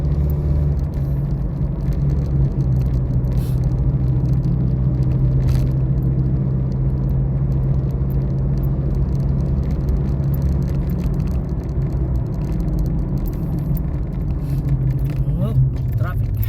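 Road traffic rumbles steadily around a car on an American road at dusk, a constant low engine and tire drone with faint passing whooshes, and voices talk over it.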